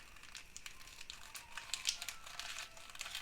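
A sachet of vanillin crinkled while being added to a saucepan of milk and sugar, quiet papery crackles and rustles in a continuous irregular patter, close and soft, with no talking.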